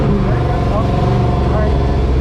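A drift truck's engine roars loud and close during a clutch kick, a dense rumbling drone with shifting pitch that stays steady through the short stretch, with a voice talking over it.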